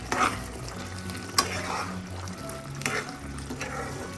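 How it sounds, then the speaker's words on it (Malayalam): Brinjal potato masala stirred in a pan after salt is added, with repeated spoon scrapes and knocks over a low sizzle. "നമുക്കൊരു 1/2 ടീസ്പൂൺ ഉപ്പും കൂടെ ചേർക്കാം. അതൊന്ന് ഇളക്കി കൊടുക്കാം"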